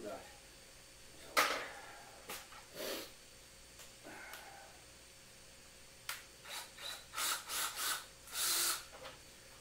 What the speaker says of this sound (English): So I'm just going to pop two screws in.